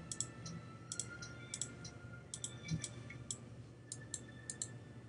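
Mouse clicks in a Civilization 5 duel game come in quick bright bursts, often in pairs, spread irregularly across a few seconds at close range over a quiet background hum.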